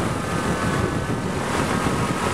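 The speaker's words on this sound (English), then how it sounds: "That's some nice chunky wind right there." Strong wind gusts buffet the microphone beside a Selsam CEC wind turbine, a steady loud broadband roar rushing continuously throughout with no talking.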